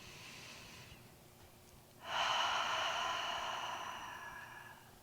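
During a seated inner-thigh stretch, a slow deep breath is drawn in close to the microphone, a soft airy inhale swelling after a quiet pause and fading out gradually over several seconds.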